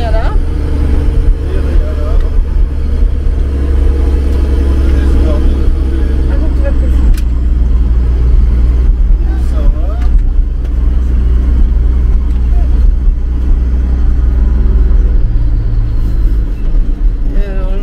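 A Magirus Deutz camper truck grinding along a rough 4x4 track, with a loud, constant low engine drone and rumbling cab noise throughout and people talking over it.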